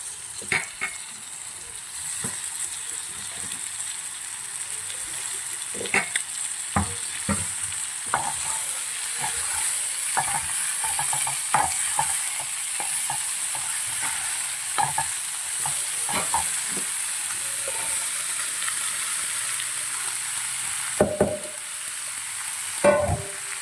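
Green beans stir-fry in a pan with turmeric-seasoned oil, a steady close sizzle running throughout while a spatula scrapes and knocks against the pan in frequent uneven bursts.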